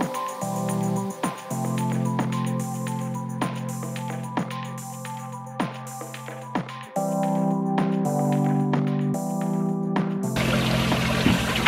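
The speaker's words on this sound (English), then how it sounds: "We're gonna add in a little bit more water right now" Water pours and trickles steadily into a container holding an Oscar fish, a continuous splashing flow with small bumps and knocks, growing into a louder, rougher gush at the end.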